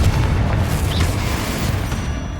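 Confringo fire spell blasts in the Hogwarts Legacy video game, a dense continuous booming roar with heavy low rumble sustained at steady loudness throughout, no talk.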